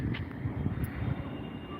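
A low aircraft engine drone rumbles steadily in the background, an airplane near an airport in Pune passing with a faint broad roar and no clear speech.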